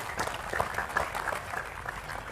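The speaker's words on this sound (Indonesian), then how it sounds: "tepuk tangan enggak apa-apa ya" An audience at a religious talk by Cak Nun breaks into dense, lively clapping, a continuous burst of many hands lasting a couple of seconds without voices.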